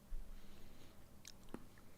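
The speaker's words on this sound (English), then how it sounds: "How loud is my chewing?" Close-miked chewing on food, a few soft bites and crunches over a low steady background hum, with one sharper crunch near the end.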